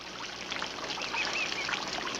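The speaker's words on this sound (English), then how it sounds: "I hear the water. I hear the birds." Birds chirp and twitter over a soft, steady trickle of flowing water, with several short calls scattered across a continuous outdoor wash.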